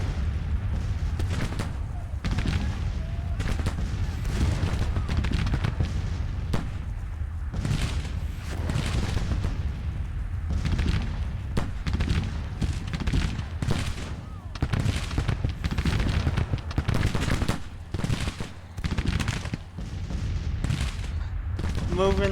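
Artillery and musket volleys from a large battle in the strategy game Grand Tactician, with dense, continuous gunfire and repeated booms rolling throughout, a voice talking over the din.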